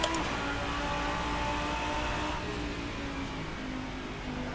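Race car in Assetto Corsa with engine, exhaust and transmission blended into a steady, dense mechanical roar that eases slightly partway through, heard alone at moderate level.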